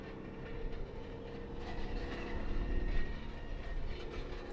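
Ongoing operations at London Southend Airport give a steady, broad rumble of machinery and distant engine noise that swells gently mid-way, with no talking.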